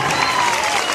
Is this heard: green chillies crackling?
no